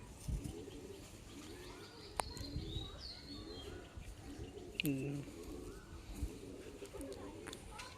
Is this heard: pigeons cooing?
yes